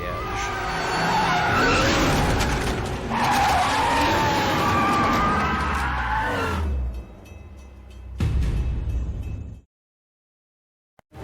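Stunt car rigged to a water truck skids as it swings around, tires screeching loudly for several seconds with engine roar, then a second brief skid before sudden silence; a brief voice is heard.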